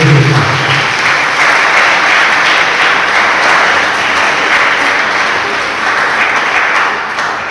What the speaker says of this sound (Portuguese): Quem crê, aplaude bem forte o nome do Senhor